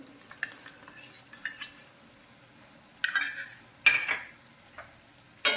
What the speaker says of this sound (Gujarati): અને આ રીતે સતત થોડું હલાવી લઈશું